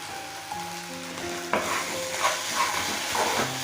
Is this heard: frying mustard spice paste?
yes